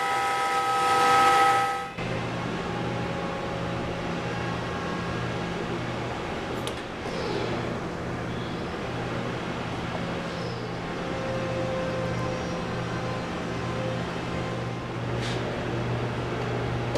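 A CNC router with a 1/2-inch straight bit cutting a seam between two cherry boards, a steady loud mechanical whine and drone that holds for the whole stretch after a brief opening burst, with no voices.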